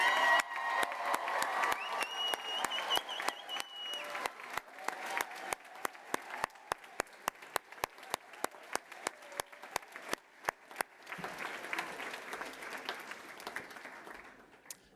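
Graduates at a University of West London graduation ceremony get a long, full round of applause from a large crowd, which thins into scattered single claps before swelling again with crowd noise near the end.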